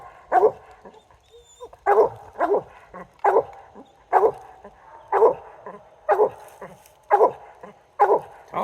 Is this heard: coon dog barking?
yes